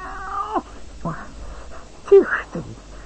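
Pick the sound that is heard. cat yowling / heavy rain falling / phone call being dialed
cat yowling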